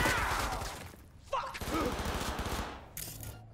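Bursts of rapid gunfire in Cyberpunk 2077 rattle loud and dense for several seconds with a short lull between, while a voice talks over the shooting.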